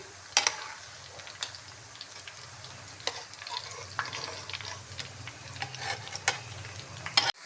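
Egg pakoras bubble and sizzle quietly in deep oil, a continuous soft crackle broken by scattered sharp ticks and spoon clinks as they are turned.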